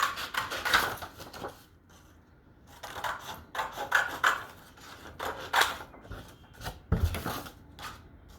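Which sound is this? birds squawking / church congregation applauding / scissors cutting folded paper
scissors cutting folded paper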